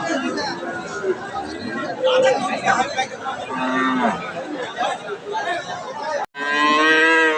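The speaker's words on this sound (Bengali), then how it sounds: "সামনে দেখছে ফ্রিজিয়ান জাতের প্রেগনেন্ট গাভিগুলো" Pregnant Friesian cows moo among a busy cattle market crowd, their low calls rising out of steady chatter, with one long clear moo at the end.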